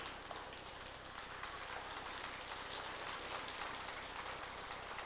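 A church congregation applauds during a worship service, a dense, even wash of many hands clapping that stays soft and distant and holds steady throughout.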